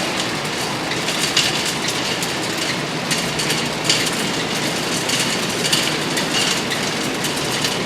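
A new auger on an Axeman Anderson 130M anthracite coal boiler runs with a continuous, even mechanical rumble and faint rattling clatter that stays at a constant level with no pauses.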